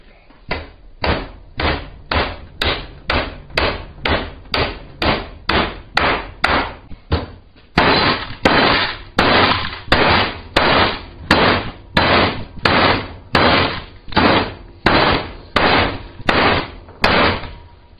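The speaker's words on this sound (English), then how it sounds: "Let me grab a big hammer." A big hammer strikes repeatedly while AR500 steel armor plate is being installed, loud, sharp metallic blows at a steady rhythm of roughly one or two per second, getting heavier partway through and continuing for the full length.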